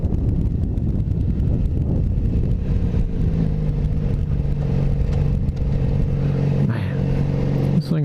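Yamaha FZ-07 parallel-twin motorcycle with an aftermarket muffler, its engine droning steadily nearby with a rising rev toward the end, heard amid wind noise.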